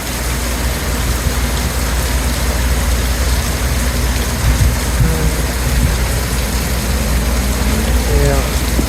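Steady rain falls outside a porch at night during a storm, a dense, constant hiss with a low rumble underneath, loud and close throughout.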